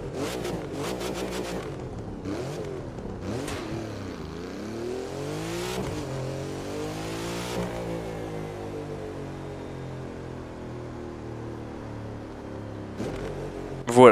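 Engine revving of a car in the racing video game The Crew 2, rising and falling through several throttle blips, then holding a long sustained drone that slowly shifts pitch, loud and close with no talking.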